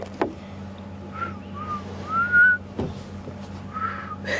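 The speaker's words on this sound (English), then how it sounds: "Struggling to whistle." Someone with a dry mouth attempts to whistle during a game drive at Djuma Game Reserve, producing a few short, breathy, wavering notes with gaps between them, faint and struggling, over a low steady hum.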